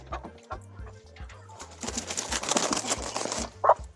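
Several chickens cluck and murmur inside a poultry coop on a farm, with soft repeated calls over a steady low hum and one sharper squawk near the end.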